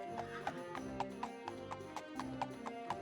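Horse-like hoofbeats in Daggerfall Unity, a video game, from a large goat creature: a steady run of clip-clop steps at an even rhythm, fairly close, over a constant low background.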